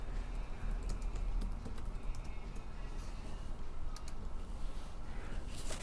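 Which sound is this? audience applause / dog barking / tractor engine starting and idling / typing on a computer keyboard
typing on a computer keyboard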